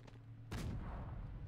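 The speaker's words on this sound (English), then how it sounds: "The tank is still shooting." A tank fires its main gun in the Call To Arms war game, a sudden loud booming blast that rolls into a sustained rumbling wash of battlefield noise with no voices over it.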